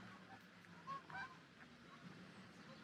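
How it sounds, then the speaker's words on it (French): Geese or ducks honk faintly in a park in the distance, a couple of brief calls over quiet outdoor background noise. "Ah, j'entends encore des canards."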